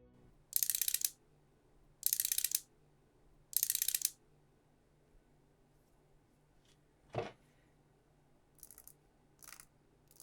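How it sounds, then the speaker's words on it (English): The rotating bezel of a fake Seiko Prospex PADI diver watch (Pepsi colourway) ratchets in three crisp, close bursts of rapid clicks, followed by a lone knock and a few fainter scattered clicks in near silence. "the fake bezel sounds and feels way more clunky. The ratchet division seems to be in 1-minute intervals"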